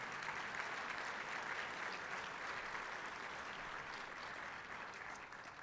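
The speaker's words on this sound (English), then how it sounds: "Applause for that, and applause for everybody." Audience applause at the Lincoln Leadership Prize 2020 event honoring David M. Rubenstein: sustained, even clapping from a large crowd, faint and distant, with no break for nearly six seconds.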